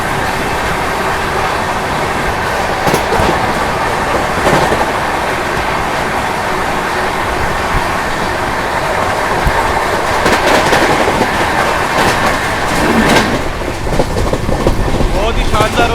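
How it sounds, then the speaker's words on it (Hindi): Indian Rail Rajdhani Express train 12431 overtaking the 12715 Sachkhand Express, with a steady loud rumble of carriages in motion and rising rushes of passing noise near the end. "Finally overtaking Sachkhand express."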